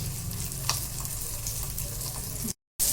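Mackerel (bangda) fillets sizzle steadily in a hot pan as they fry on the second side, a continuous crackling hiss with one brief clatter, then a short cut to silence near the end.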